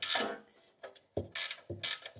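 A hand wrench ratchets in short bursts while tightening long exhaust downpipe studs on an 80 Series Land Cruiser, about five quick clicking strokes with brief pauses, close and fairly quiet.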